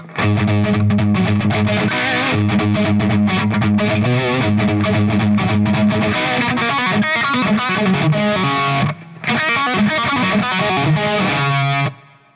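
A heavily distorted electric guitar plays a lick, loud and continuous with fast picked notes and chorus-like shimmer, a brief dropout near the end, then the riff resumes before stopping.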